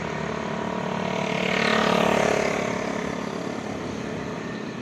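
A delivery rider's single motorcycle passes by, its engine hum swelling to a peak near the middle and then fading away, with steady traffic-like background rumble throughout.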